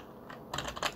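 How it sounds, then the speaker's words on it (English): Keys clatter on a computer keyboard at close range, a short burst of quick clicks after a brief quiet moment. "we're going to type in an age"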